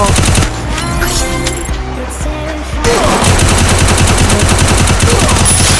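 Rapid automatic fire from a UMP submachine gun in the Free Fire video game, a dense, loud, continuous rattle of shots over game sound, with a brief shift in texture midway.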